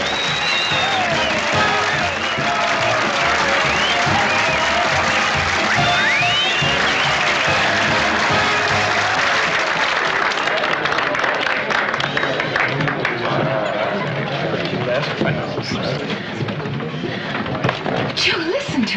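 A theatre audience applauds, a dense, loud wash of clapping and crowd noise that carries on for a long stretch before thinning out near the end.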